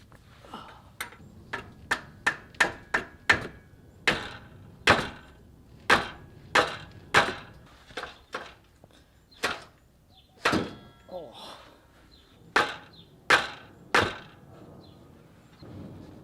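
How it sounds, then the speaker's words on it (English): A mallet hammers an adjustable wrench to break loose an O2 sensor during a downpipe install on a widebody R56 Mini: roughly twenty sharp metallic knocks, quick at first then spaced out, close and loud. "Adjustable wrench and a mallet, my favorite O2 sensor tools."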